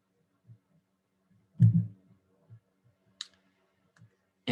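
A computer mouse gives a few isolated, close clicks with soft thumps in between, separated by near silence.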